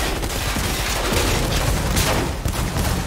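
Dense, continuous gunfire from the video game Cyberpunk 2077, with loud bursts of shots and booming impacts that fill the whole stretch with little letup.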